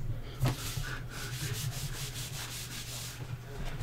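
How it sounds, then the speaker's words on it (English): Paper craft piece rubbed against denim jeans to clear off leftover embossing powder, giving a soft, close, steady brushing scuff with a few slightly firmer strokes, no voices. "I take it and I rub it on my jeans"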